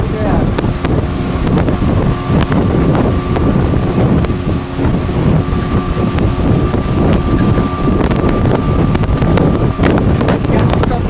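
A motorboat engine drones steadily under throttle while the boat is driven, close and loud, heavily mixed with wind buffeting and water rush; no voices stand out.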